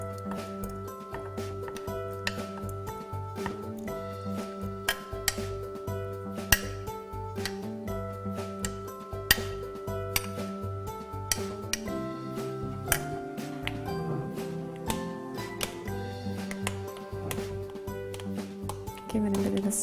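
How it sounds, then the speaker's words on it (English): Spoon clinking repeatedly against a bowl while stirring berries and their juice into coconut yoghurt, bright close ticks in an irregular rhythm, with a steady background tone underneath. "Give it a bit of a stir"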